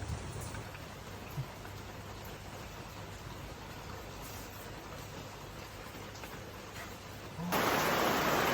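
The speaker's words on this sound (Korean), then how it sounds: "이, 이 빗소리." Heavy rain falling outside a treehouse in Ubud, Bali, a dense, steady hiss of drops on surfaces that surges louder in the final second.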